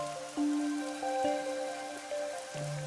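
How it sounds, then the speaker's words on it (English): Rain falls in the video game Master Detective Archives: Rain Code, a soft steady patter under faint game tones and chimes that shift every second or so, with no voices. "the rain is absolutely real"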